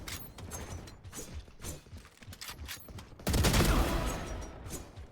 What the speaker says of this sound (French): J'ai tiré et je l'ai tué.